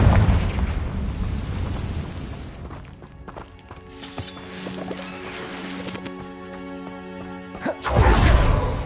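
A Confringo fire spell in the video game Hogwarts Legacy lands with a heavy crackling blast and shattering debris, followed by a long ringing, tonal fade, and another loud burst at the end.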